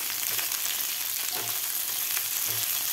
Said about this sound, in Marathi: कापून घेतलेला कांदा भाजून घ्यायचा आहे।